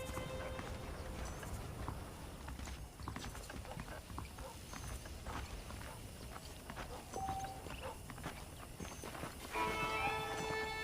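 Horse hooves clip-clop steadily on a dirt path in a Wild West ranch setting in Red Dead Redemption, with faint creaks and clanks of tack underneath throughout.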